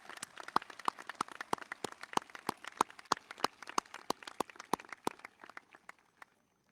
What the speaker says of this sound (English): how about a round of applause for our choir and our band students for their great music tonight?